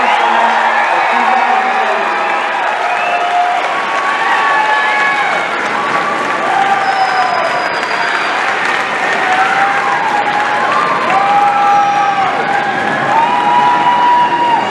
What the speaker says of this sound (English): let's give one more round of applause to our graduates this year